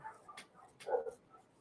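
Dogs barking and whimpering in the background, faint and brief, with a couple of soft yelps and a slightly louder whine near the end.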